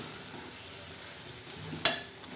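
Peanut-masala-stuffed okra sautéing in a pan gives a steady, soft oily sizzle, broken once by a short clatter of a utensil against the pan.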